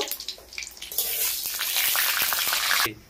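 Bay leaf, dried chilli and five-spice tempering dropped into hot oil in a home kitchen, a loud steady sizzle that swells after a second, holds, then cuts off abruptly.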